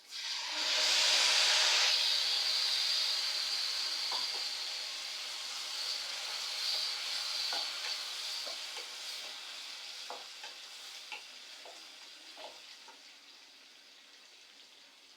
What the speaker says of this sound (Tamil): புளி கரைசல் ஆட் பண்ணுறோம்.